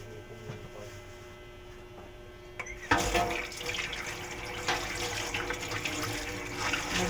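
Water from a kitchen tap runs over raw chicken being washed: a quiet hum first, then the tap opens abruptly and a steady splashing stream continues to the end, with no talk.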